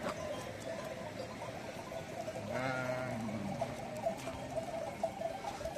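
A lamb gives a single clear bleat partway through, close and moderately loud, over a soft steady outdoor hiss with a few light patters and no talking.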